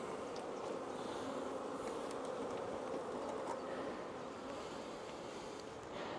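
Honey bees hum steadily around an opened hive during an inspection, a dense, continuous buzz close by at a low level that holds unchanged throughout.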